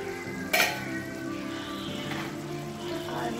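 Mutton curry cooking in a pan on a stove over a medium flame, a steady soft sizzle and bubbling with one brief clink of a utensil near the start.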